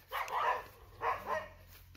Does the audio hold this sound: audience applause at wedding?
no